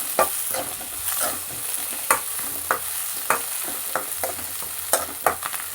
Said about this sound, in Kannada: ಇದನ್ನು ಚೆನ್ನಾಗಿ ಫ್ರೈ ಮಾಡಿಕೊಂಡು.